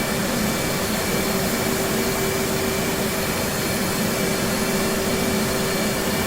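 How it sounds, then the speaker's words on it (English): The left jet engine of an F/A-18C Hornet cranks in DCS World, a steady, loud broadband whine and roar with faint tonal hums, unbroken and with no talk. "So now crank to the left. Cranking left."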